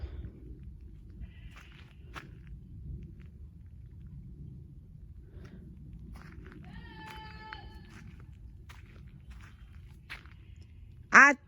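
A faint, wavering goat bleat sounds in the distance amid quiet outdoor ambience, with a few soft knocks and a sharp sound at the end.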